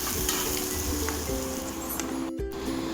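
Shallots and green chilli sautéing in hot oil for okra masala, a constant close crackling sizzle with a few soft stirring scrapes and a brief dropout partway through.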